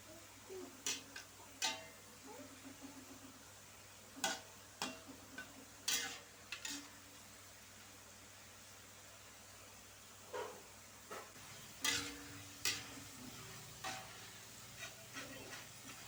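Potato strips frying in hot oil for crispy kentang mustopa, stirred and separated. A quiet, steady sizzle runs throughout, with sporadic soft clinks and scrapes of the utensil, and no voices.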